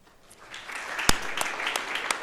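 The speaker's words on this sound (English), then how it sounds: "I love that we're a clapping church." Church congregation clapping in a sanctuary during a worship service, a steady mid-loud patter of many hands with a few sharper claps standing out, no talking over it.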